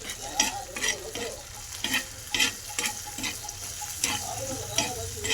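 Spice masala for pav bhaji sizzles and fries in butter in a pan while a spoon stirs it in a steady rhythm of scrapes and ticks. The frying hiss stays close and continuous.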